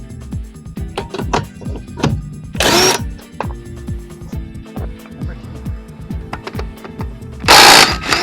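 An impact gun rattles in repeated bursts, loosening the wheel nuts on a 1987 Honda CRX, with two louder hissing blasts of air in between, all close and loud.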